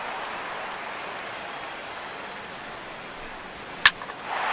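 Steady crowd applause and cheering rolls on as an ovation for the pitcher in the MLB 16 The Show baseball video game, a broad wash of clapping with one brief sharp knock near the end.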